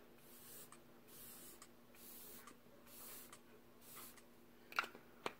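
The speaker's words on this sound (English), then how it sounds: "I am gonna spray just a little bit of" Several soft, short hissing sprays of Glow Recipe Watermelon Glow Ultra Fine Mist onto a face in a loose rhythm, quiet and close, followed by a couple of faint clicks.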